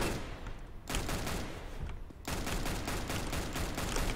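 Weapon fire in a Valve video game with a weapons mod, dense rapid bursts of close, loud gunshots that nearly fill the clip, broken by one short lull.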